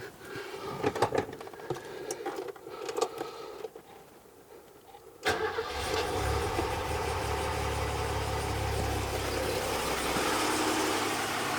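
A Mercedes W116 engine cranks and catches at about five seconds, then settles into a steady, loud, close idle with a low rumble; quieter clanks and handling noises come before the start.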